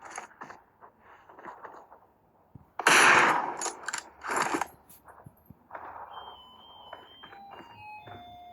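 Bursts of gunfire in PUBG Mobile, a loud rapid volley followed by a couple more shots, with beeping electronic tones and soft clicks around them.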